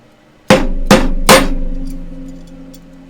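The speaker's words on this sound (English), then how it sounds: "Rubber mallet time." Three quick, heavy knocks from a rubber mallet striking a part of an Alfawise C10 CNC laser engraver ring out close and loud, with a short metallic resonance decaying after the last blow.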